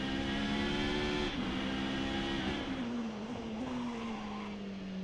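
In a racing video game, a car brakes hard going into a corner: a sustained engine tone drops in pitch as the tyres squeal and scrub over several seconds, with no talk.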